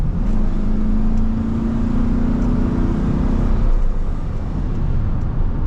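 A 2000 Chevy Silverado 1500 with a V8 engine accelerating while driving, a loud, steady deep engine drone with a rising tone that levels off, heard close from inside the cab.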